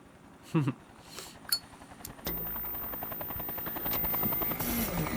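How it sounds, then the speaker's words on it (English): In the video game Robocop: Rogue City, a few sharp clinks and taps come first, then a steady helicopter rotor drone starts and keeps going, loud and mechanical, with no talking. "He's got a helicopter coming, has he?"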